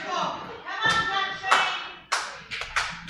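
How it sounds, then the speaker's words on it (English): Crowd at a live wrestling match between Big Country and Nefarious Creedmore breaks into scattered bursts of clapping and slaps, several sharp rises over a steady murmur of voices and crowd noise. "Crowd trying to get Country back into it."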